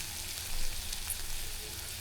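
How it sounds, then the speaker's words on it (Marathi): Mixed vegetables sautéing in a mustard seed and cumin tempering, a steady broadband sizzle that holds close and even for two seconds with a brief swell early on, no voices. "सगळं भाज्या परतून घेतल्या."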